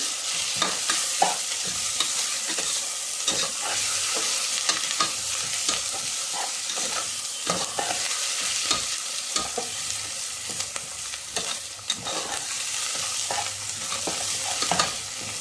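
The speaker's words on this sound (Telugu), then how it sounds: "బాగా ఎర్రగా వేయించుకోండి" A spice mix of chilli powder, coriander powder and turmeric being stirred and fried in a pan for Andhra-style gongura curry, giving a continuous close sizzle with frequent spoon scrapes and no talking.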